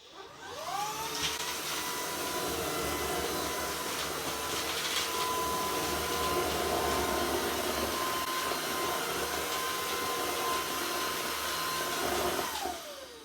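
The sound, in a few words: Shark IF250UK vacuum cleaner on low power picking up cookies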